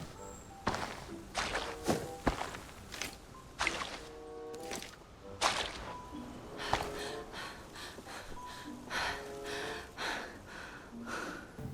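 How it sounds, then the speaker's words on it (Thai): Quick, irregular footsteps in Arena Breakout, running on a hard surface, mixed with thumps and sharp effects at a steady moderate loudness. "มีเสียงเท้าวิ่งอยู่ข้างหน้านะ"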